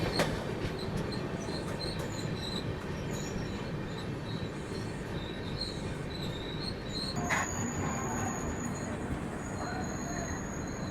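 Train arriving at Ramagundam railway station on the Danapur–Secunderabad Express, heard as a steady loud rumble of rolling wheels with high squealing from the rails throughout, close and continuous.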